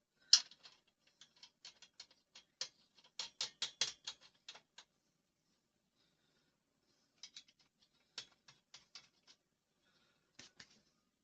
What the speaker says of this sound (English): I need then to get my wrench to tighten these bolts over here.